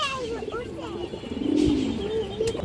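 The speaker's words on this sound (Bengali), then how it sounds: "এগুলো সবুজ গলা কবুতর" A pair of green-necked pigeons coos in soft, low, drawn-out calls, close by, while a voice talks over them.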